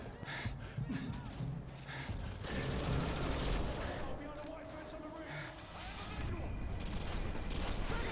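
Rapid covering gunfire rattles through a Call of Duty Modern Warfare 2 firefight in bursts and fusillades. Mechanical clatter sounds alongside the shots, and a voice talks over much of the action.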